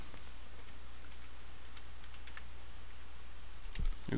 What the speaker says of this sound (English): Just type in your username.